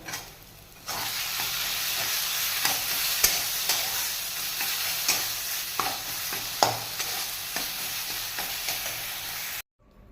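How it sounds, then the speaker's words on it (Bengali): A spiced mixture with kasuri methi is stirred in a hot pan, giving a continuous loud sizzle with repeated spoon scrapes and taps at an uneven rhythm, close by, briefly quiet at start and end. "একটু কসুরি মেথি দিয়ে এটাকে একটু নাড়াচাড়া করে নেব"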